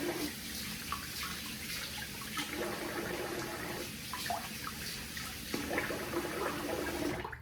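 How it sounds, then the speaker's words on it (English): Steady running water from a tap or sink while a face is rinsed after a shave, a continuous close hiss and splash with small changes as hands move through the stream. "let me rinse the face"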